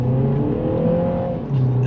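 A Mini sports car on a test track accelerating, its engine note climbing steadily in pitch as it revs, close and loud, dipping briefly before picking up again.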